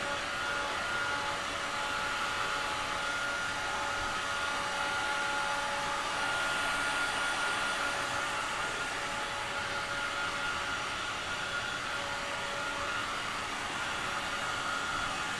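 A hair dryer blows steadily over a canvas being prepped, a constant airy roar with a thin tonal whine, unbroken and fairly close for the whole stretch with no talking.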